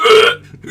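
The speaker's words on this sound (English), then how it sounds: "Sorry, I burped." A single short, loud burp up close, lasting under half a second and followed by quiet.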